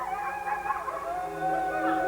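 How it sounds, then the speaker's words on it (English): Dogs howl as a sound effect in an audio drama, long sustained wavering howls overlapping in a steady, fairly loud wash, with no talking. "The dogs howled."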